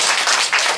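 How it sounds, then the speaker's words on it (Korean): A brief burst of applause from an audience at a church presbytery assembly sounds as a dense, hissy wash of many hands clapping at once, cut short after under a second. "다시 한번 박수 한번 하겠습니다"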